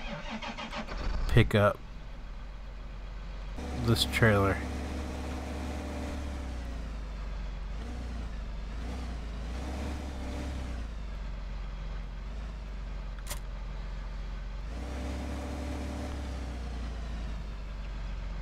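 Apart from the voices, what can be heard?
tractor engine running in Farming Simulator 15 video game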